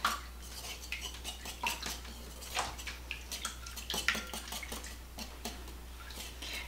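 A spoon stirs a sausage breakfast casserole mixture with mayonnaise and mustard in a bowl, producing repeated close scraping clinks and soft wet sloshes in an uneven rhythm.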